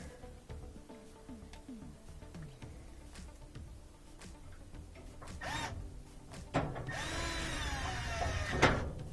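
Screws are driven in with a whirring power driver while an LG gas dryer is being repaired. Short mechanical whines and clicks come first, then a louder, longer buzzing burst near the end, heard up close without speech.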